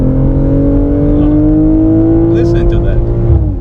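A 2022 BMW M440i's engine and exhaust rev loudly and close up through a downshift, a sustained rising and falling tone with pops. Someone talks over it.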